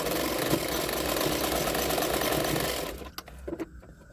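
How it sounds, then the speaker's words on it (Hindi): A sewing machine stitches a lined double katori blouse, running loud and continuous for about three seconds before stopping, followed by a few soft handling clicks. "अभी उसको इस तरह से उल्टा करते हैं और एक सिलाई डाल दूँगी।"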